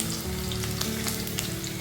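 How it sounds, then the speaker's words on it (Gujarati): Garlic and cloves frying in hot oil in a kadai, a steady close sizzle with crackling bursts throughout, no voices. "લસણ જ્યાં સુધી બ્રાઉન ન થાય ત્યાં સુધી આપણે એને સોતળવાનું રહેશે."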